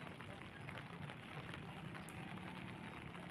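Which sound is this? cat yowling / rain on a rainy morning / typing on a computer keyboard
rain on a rainy morning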